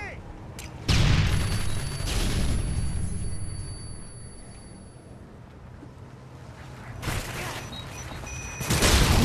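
A grenade goes off in a video game, a loud burst followed by rumbling blasts and clatter, with further explosive bursts later over the game's background noise.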